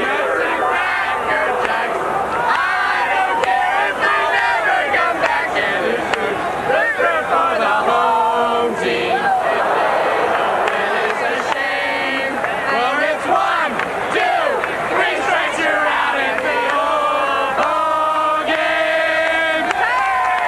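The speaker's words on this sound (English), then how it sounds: "Just great to see James Brady here at RFK Stadium with a marvelous crowd saluting him and the fans having a great time" A big crowd at RFK Stadium cheers and roars steadily at an old-timers baseball game, a loud, continuous wash of voices and shouts that rises and falls without letup.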